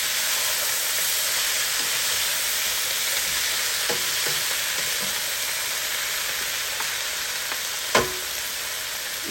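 Side dishes for a healthy chicken dinner sizzle and fry steadily in a pan, a constant close hiss with a few small pops and one sharper clatter.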